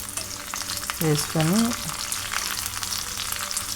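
Curry leaves drop into hot tempering oil for miryala chaaru, a pepper rasam, and give a steady close crackling fry. The sizzle runs throughout, with a brief voiced sound near the start.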